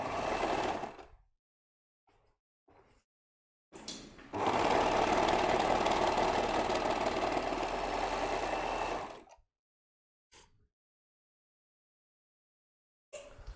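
Overlock sewing machine joining the shoulders of a child's tracksuit, a short burst followed by a sustained fast mechanical whir of about five seconds, close and loud, separated by quiet gaps and brief handling clicks.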